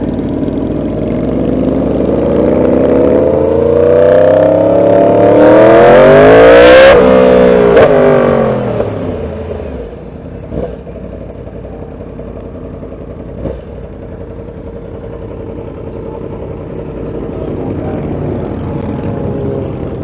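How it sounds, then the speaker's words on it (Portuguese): Race car engines roaring around Daytona International Speedway, a loud pass that swells with rising and falling pitch as the cars sweep by, then fades to a steady distant drone of the track. "Aí é o circuito de Daytona Beach, Daytona Motor Speedway."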